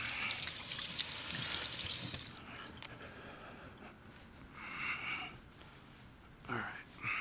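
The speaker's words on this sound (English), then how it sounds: "I'm going to wash my hands." Tap water runs into a kitchen sink during handwashing, a hissing stream for the first couple of seconds, then softer intermittent splashing and trickling with some breathing noises.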